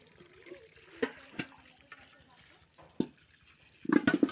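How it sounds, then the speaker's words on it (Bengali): Neem, tulsi and other leaves are washed in water: soft splashes and faint sloshing, then louder handling and splashing near the end, close and fairly quiet in a calm indoor space. "এবার সমস্ত পাতা ফুলগুলোকে আমি ভালো করে পরিষ্কার করে ধুয়ে নিচ্ছি।"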